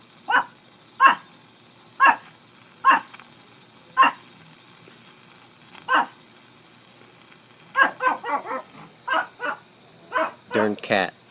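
A dog barks at a cat in sharp, evenly spaced single barks that quicken into a rapid, excited cluster near the end, with a steady high tone running underneath.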